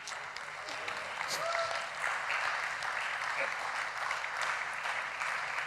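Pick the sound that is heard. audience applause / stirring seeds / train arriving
audience applause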